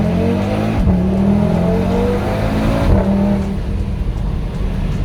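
A 400 hp Audi RS3 engine revs hard, loud and close, with two sharp throttle blips and gear-change dips before settling into a sustained roar that fades slightly at the end, heard with no talk.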